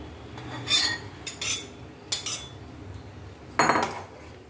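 Fried potol, a pointed gourd, tipped into half-cooked mung dal and stirred in a pot, heard as a few separate bursts of metal spoon scraping and clinking against the vessel, spaced apart with no talk.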